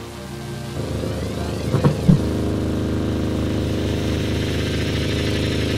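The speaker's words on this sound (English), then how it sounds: "Time to plug in the tone generator." A tone generator drives a tray of corn starch goo into vibration, producing a steady low droning buzz that holds loud from start to end, with a couple of sharper bumps partway through.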